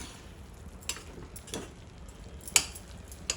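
Ground masala being stirred into a cluster bean curry in a pan, giving soft scraping and occasional sharp clicks of the spoon against the metal, quiet and close with a faint sizzle underneath.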